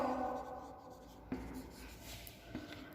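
A pen writes on paper while chemistry mole-concept problems are worked out, giving soft, close scratching strokes with a few sharper taps, quiet and steady, with no talk over it.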